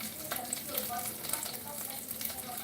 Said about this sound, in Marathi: ते छोटे छोटे त्याचे तुकडे करायचे आणि हे पण त्याच्यात शेलो फ्राय करायचे.